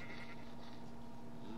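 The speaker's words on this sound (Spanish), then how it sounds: "Ovejas." Sheep bleating in the Minecraft video game, a single steady, sustained bleat heard alone at low volume without any talk.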